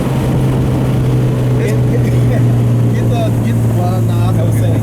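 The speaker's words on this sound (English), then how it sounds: "We're driving and breaking through all the gears, and it moves." An H2B-swapped Honda Civic driving on back roads, its engine droning loud and steady from inside the cabin with no clear gear change, while people talk over it.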